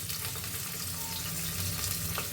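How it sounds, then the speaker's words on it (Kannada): Onions frying in a pan while a brinjal rice dish (vangibath) is prepared, a steady close sizzle and crackle running throughout without a break. "ಈಗ ಈರುಳ್ಳಿ ಹಾಕೊಳ್ತಾ ಇದ್ದೀನಿ ಅದು ಸ್ವಲ್ಪ ಚೆನ್ನಾಗಿ"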